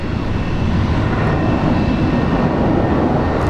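An airliner departs a runway at Brisbane International Airport, a loud, steady broadband engine roar that fills the whole stretch without letting up, heard from a distance.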